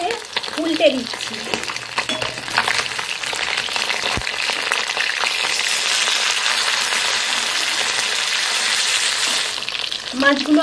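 Rohu fish pieces sizzling in hot oil in a wok after being turned over, a steady close crackle with scraping and turning sounds, and a bit of background voice at the start and end.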